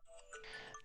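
A phone alarm rings briefly in a room, a short bright electronic tone with no talking over it.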